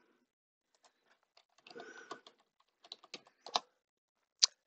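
Password entered on a computer keyboard in a quiet room, a faint, sparse run of key clicks in short irregular clusters ending with one sharper keystroke.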